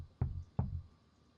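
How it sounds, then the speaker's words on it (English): Two heavy, dull knocks or kicks against a door, about a third of a second apart, muffled and booming with a short decay, then quiet. "Who is kicking on the door?"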